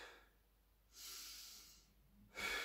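A person breathes slowly during a Pilates mobility stretch on a mat, with a soft, close, airy exhale followed by a second breath, quiet and alone.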